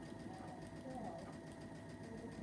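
A home sewing machine hums steadily while stitching quilt block pieces together, a low continuous motor whir running the whole time with a faint voice beneath it.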